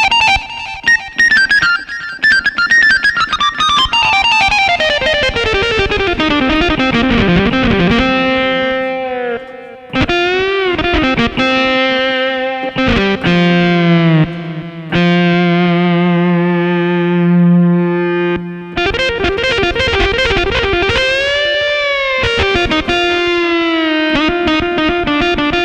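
Yamaha MOX synthesizer plays a custom riff through heavy distortion: a fast descending run slides into sustained, bending lead notes with pitch wobble, loud and continuous with brief gaps, ending in busy rhythmic phrases.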